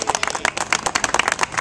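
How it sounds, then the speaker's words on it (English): A crowd at a political endorsement event applauds a congressman, with rapid, crisp, closely packed claps from several nearby hands in a lively burst. "So let's give him a nice round of applause."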